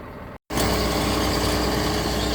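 A farm tractor engine runs loud and constant at close range after a brief dropout, a steady droning rumble during rye planting in a hay field.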